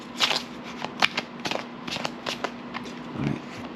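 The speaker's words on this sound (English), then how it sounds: "let me go ahead and shuffle these cards really fast just so I can get some more clarity on that" Tarot cards are shuffled quickly by hand in a series of sharp riffling bursts and soft slaps, close up and irregular, with faint room tone between strokes.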